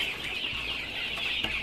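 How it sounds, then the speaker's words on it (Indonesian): Young chickens crowded in a poultry coop, some of them sick or lame, keep up a constant high-pitched chorus of chirps and clucks, with faint knocks underneath. "Ini adalah ayam-ayam yang cacat dan sebagian ayam yang sakit"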